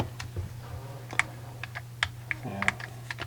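PlayStation 1 controller buttons are pressed in a quick, irregular run of sharp plastic clicks, close and distinct over a low steady hum, with the controller taken from a console being repaired.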